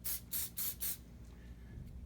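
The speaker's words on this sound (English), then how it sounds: "You can spray it with a little bit of silicone" Food grade silicone is sprayed onto a cart impeller in four quick hissing bursts, close and loud, followed by quieter handling noise.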